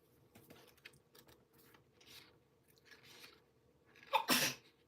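A single sharp sneeze bursts out near the end, loud and close, after a stretch of faint rustling and small handling noises in a quiet room.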